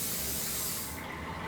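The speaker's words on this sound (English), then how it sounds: "A spray." A short, close burst of cooking spray hissing onto a quarter sheet tray for about a second, then cutting off to quiet room noise.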